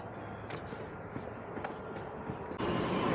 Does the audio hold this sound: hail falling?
no